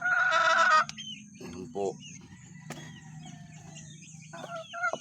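Backyard pet chickens, including two brooding hens, give a loud crow-like call up close, followed by scattered soft clucks and chirps, with someone speaking briefly.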